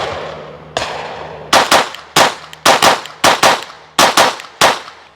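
Rapid pairs of Glock pistol shots from an optics-ready Glock 45 in a doubles drill, about seven sharp, loud double reports spaced under a second apart, each ringing briefly, with no talk.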